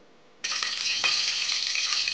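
Oil hits a hot pressure cooker and bursts into a loud, steady sizzle that starts abruptly and holds on without a break, close and alone.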